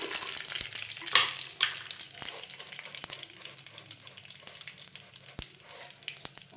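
Bay leaf, dried red chilli and whole cumin crackle in hot oil left over from frying potatoes, a bright continuous sizzle close up with occasional sharp pops and spoon scrapes, no talking.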